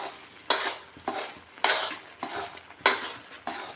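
Flour roasting in ghee for Gujarati adadiya, stirred with a spatula in regular scraping strokes about every half second, close and fairly quiet over a faint sizzle, no voices.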